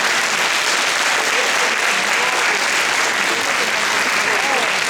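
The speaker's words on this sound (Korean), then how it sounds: "우리 수고해주신 분들에게 박수 한번" Steady, dense applause from an audience at a naval academy information session, loud and sustained throughout without a break.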